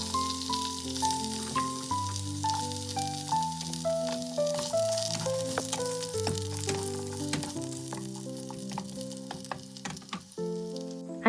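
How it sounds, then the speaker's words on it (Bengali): Onion, tomato and garlic sautéing in hot oil in a wok give a steady sizzle that runs the whole time, partly masked by melodic background music. "গরম কড়াইয়ে 3-4 চামচ তেল দিয়ে একে একে কেটে রাখা পেঁয়াজ, টমেটো আর রসুন দিয়ে একটু ভালো করে নেড়ে নেব"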